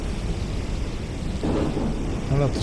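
A thunderstorm rumbles in the Forever Skies video game, with a steady wash of rain-like noise and a low thunder swell building midway, while a person speaks briefly underneath.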